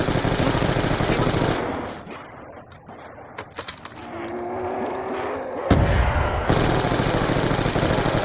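A machine gun fires in long, dense automatic bursts in Call of Duty: Black Ops II. Loud continuous fire frames a short pause filled with mechanical clicks and clatter.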